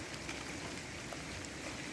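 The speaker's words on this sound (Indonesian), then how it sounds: "Hujan lu." Rain falling in a rural village setting, a faint, steady wash of noise with no distinct drops and no voices.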